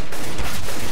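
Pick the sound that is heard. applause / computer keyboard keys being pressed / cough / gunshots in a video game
gunshots in a video game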